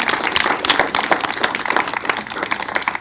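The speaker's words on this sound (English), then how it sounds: "If we can give them a round of applause." Audience applause for panelists at a scam-prevention event, dense, lively clapping from a crowd filling the whole stretch without pause.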